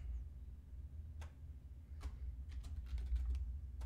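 Character name typed on a computer keyboard while setting up Hogwarts Legacy: a few quiet, scattered key clicks sit over a steady low hum, with a slightly busier run of taps near the end.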